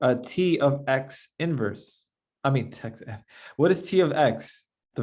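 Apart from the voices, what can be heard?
No everyday noise stands out behind the speech.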